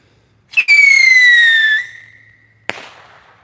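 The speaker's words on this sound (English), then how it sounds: "we're gonna do this screecher here" A $5 screecher firework launches with a sharp pop, then a loud, bright whistling shriek that slides gradually downward for over a second before fading, ending in a crisp bang.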